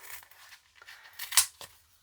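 Scissors snip into backing paper during Christmas cardmaking, a few quiet crisp cuts and rustles with one sharper snip near the end, close by and alone.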